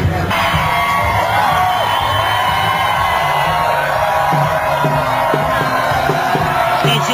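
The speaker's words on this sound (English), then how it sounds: "Folks are up in the apartments cheering on the march" Crowd cheering and whooping from apartments above a street protest march in Oakland, a loud continuous roar of voices with scattered shouts throughout.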